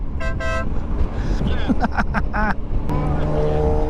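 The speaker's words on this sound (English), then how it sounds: "one thing your motorbikes need is a louder horn to get people out of the way" Several loud, bright blasts from an aftermarket Denali motorcycle horn on a Triumph Tiger 1200, in short bursts, some multi-toned, with vehicle and street noise underneath.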